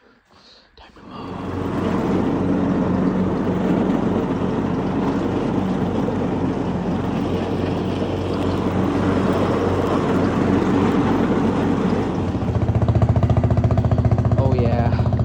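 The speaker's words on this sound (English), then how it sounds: "Time to mow." A lawn mower runs steadily and close by for most of the stretch, starting up after a brief quiet moment and growing slightly louder and heavier near the end, with no talking over it.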